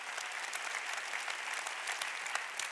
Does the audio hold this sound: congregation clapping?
yes